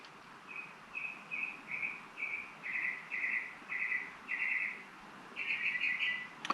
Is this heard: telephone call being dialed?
no